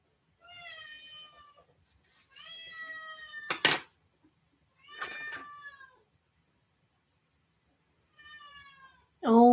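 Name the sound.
kitten crying, meowing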